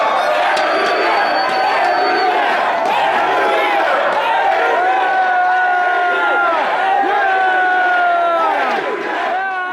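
Around a hundred young fans shouting and cheering as they rush the stage to greet Andrew Yang, an excited, loud crowd roar with high whoops and yells rising and falling over several seconds.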